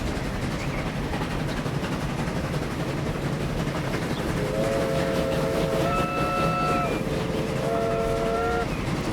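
A modded UK steam locomotive in Transport Fever 2 chugs along steadily, then sounds two long, chord-like whistle blasts, one lasting a couple of seconds and a shorter one after a brief gap.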